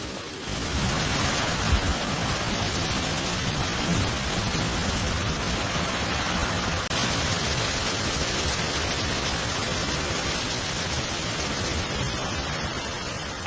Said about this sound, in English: the rain hammered down and wind rattled the roof above